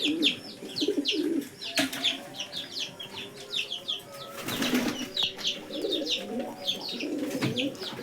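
Lahori pigeons coo repeatedly and flap their wings in short bursts, with many birds calling at once close by; a rooster-like cluck is also heard.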